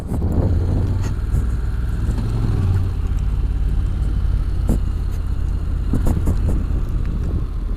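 A Honda NM4 Vultus motorcycle pulls hard at full throttle, its engine a loud, steady low drone mixed with wind roar, and occasional sharp clicks or taps cutting through.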